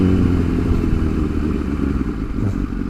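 A motorcycle engine idles at a traffic stop with a steady low, throbbing rumble, close by and continuous, with no voices.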